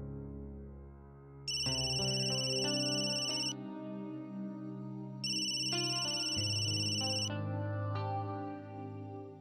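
A telephone ringtone rings in a scene from a Marathi TV serial, a bright electronic melody repeating in loud, looping phrases with no one speaking.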